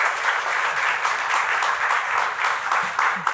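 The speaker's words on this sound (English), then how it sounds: "Let's give her a big round of applause." Audience applause from a seated crowd welcoming a woman to the front, a steady wash of many hands clapping at even loudness throughout, with a few louder individual claps near the end.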